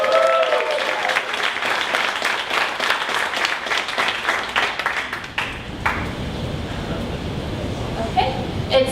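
Audience members at a 1 Million Cups gathering in Dallas clap for the Weiser team, a full round of applause that thins out after about five seconds into scattered claps, murmurs and a few light taps.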